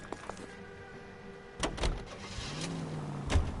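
A car in LA Noire starts and pulls away, with door and mechanical clunks near the start and the engine rising to a close, steady drive-off hum.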